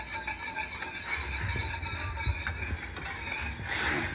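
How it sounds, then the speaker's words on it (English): A utensil scrapes and stirs through thickening sweet chili sauce in a pot, with soft bubbling and gentle clinks, steady and close, no voices. "Stir that in."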